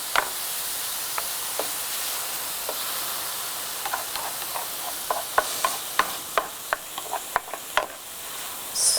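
Steady sizzling hiss of onions and vegetables frying in a pan, with scattered clicks and light scraping taps of stirring growing busier toward the end.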